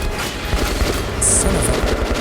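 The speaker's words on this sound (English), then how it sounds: "Where's the support fire coming from?" Rapid support gunfire in the Metro video game, a continuous machine-gun fusillade rattling steadily at mid distance, with no talking.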